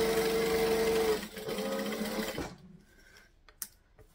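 A sewing machine stitches a lining slip pocket, running in a loud steady whir for over a second, then continuing in slower uneven bursts before stopping, leaving quiet room noise and a small click.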